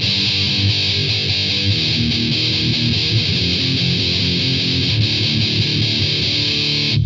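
Sustained, buzzy fuzz-distorted electric guitar tone from a Hotone Skyline pedal with the tone turned fully down, thick and saturated, held steadily throughout.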